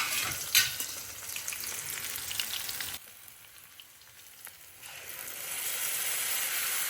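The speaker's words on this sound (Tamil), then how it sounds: "வெங்காயம் வதங்கின உடனே தக்காளி பழத்தை போட்டுடலாம்." Ground onion and tomato paste sizzling and frying in a pan for a drumstick curry, a steady crackle that drops quieter midway and then swells back up, with stirring and no talk.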